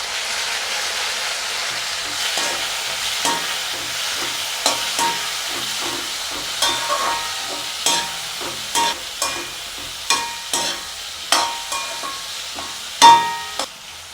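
Onions and spices sautéing in a pan for a jackfruit curry, a soft sizzle under repeated clattering stirs of a spoon against the pan, with no voices.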